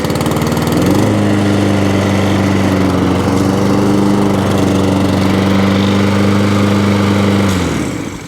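A Toro lawnmower with a Briggs and Stratton engine runs up close. It drones loudly and steadily for several seconds, then the engine note drops away at the end.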